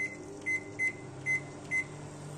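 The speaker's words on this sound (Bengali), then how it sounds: "তাই এই ভাতগুলোকে আমি গরম করতে দিচ্ছি মাইক্রো ওভেনে" Microwave oven running while reheating cold rice: a low steady hum with a few short, regular high beeps over it, close and fairly quiet.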